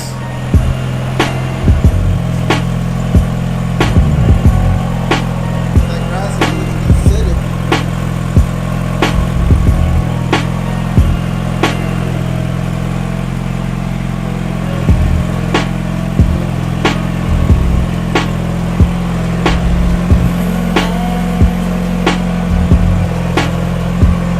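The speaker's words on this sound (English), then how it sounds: "Might as well keep revving for me." A turbocharged Honda DC2 Integra engine with a full exhaust idles steadily with a low drone while sharp, repeated clicks and short engine blips punctuate it.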